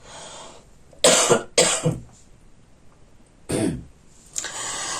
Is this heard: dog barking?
no